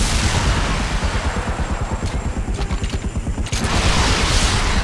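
Rapid bursts of gunfire in the video game The Punisher crackle steadily over a dense, rumbling background, with a brief lull near the end before the noise swells again.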